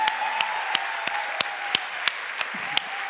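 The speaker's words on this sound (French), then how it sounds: "Peut-être on peut applaudir encore Violette" A live audience applauds steadily for a guest, a continuous blend of clapping with a few sharper, distinct claps standing out at regular intervals near the listener.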